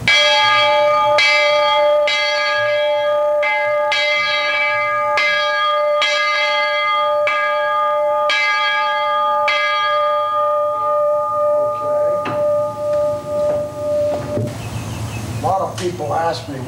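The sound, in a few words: original bell on an old locomotive being rung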